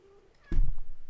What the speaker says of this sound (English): Let's see if I can move the cat.